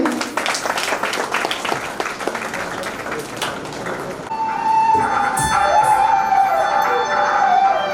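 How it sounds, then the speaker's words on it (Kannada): An audience claps for a young Bharatanatyam dancer at a World Photography Day event, a dense burst of applause over the first half, followed by a steady wavering tone as the clapping fades. "ಚಪ್ಪಾಳೆ ಮೂಲಕ ಪ್ರೋತ್ಸಾಹಕ್ಕೆ ವಿನಂತಿ."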